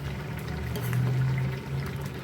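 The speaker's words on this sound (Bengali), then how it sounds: "আর এই যে মুসুর ডাল সেদ্ধ হচ্ছে, সেদ্ধ হয়েই গেছে" Masoor dal (red lentils) boiling in a pot on a home stove, a soft steady bubbling simmer heard up close and fairly quiet, with no talking.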